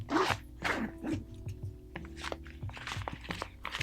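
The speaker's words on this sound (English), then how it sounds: "so here's the side access. Let's unzip this." A camera bag's side access zipper is pulled open in several short, close zipping strokes with small rustles and clicks of fabric and hardware between them.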